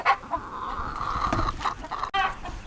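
Young laying hens clucking in a muddy, rain-soaked farm pen, with several close, loud, overlapping clucks and short calls that rise and fall across the clip.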